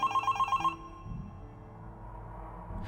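An old-fashioned telephone bell rings in a public phone box, a quick double burst repeating several times, then cutting off into quiet room tone.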